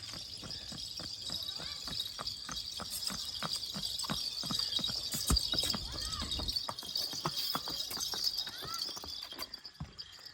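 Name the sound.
horse (mare) hooves clip-clopping while being ridden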